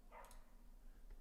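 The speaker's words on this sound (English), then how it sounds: "There's barking, there's drilling." A dog barks faintly in the distance, one or two brief barks near the start against a quiet, low background, with no talking.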